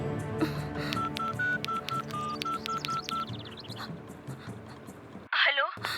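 A telephone is dialed in a Hindi comedy scene: a quick series of short, evenly pitched keypad tones taps out a number over a murmur of background sound and nearby voices, followed by a brief louder burst.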